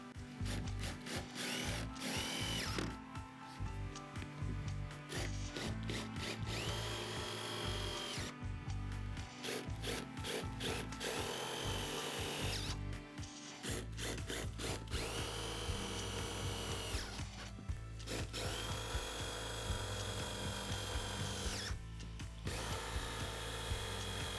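A power drill driving galvanized wide-head screws into corrugated metal roofing sheet, loud and close, with repeated whirring bursts, stops and restarts and some ratcheting, continuing steadily throughout.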